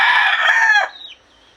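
A backyard rooster crows once, loud and close, its call trailing off into a brief quieter tail and then near silence.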